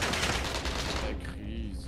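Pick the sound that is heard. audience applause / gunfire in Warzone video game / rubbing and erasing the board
gunfire in Warzone video game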